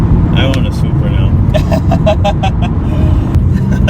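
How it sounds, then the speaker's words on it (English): Twin-turbo engine of a right-hand-drive Toyota Supra MK4 roaring steadily from inside the cabin, with a series of short rising whistles from the big and small turbos spooling up over the constant drone, and people talking throughout. "I hear the turbos spooling."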